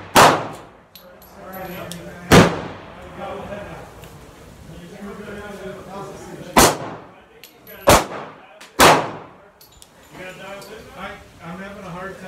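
A Glock pistol fed from a 50-round drum fires four sharp, loud shots spread irregularly across the span, each ringing with a metallic clang, while people talk steadily between them.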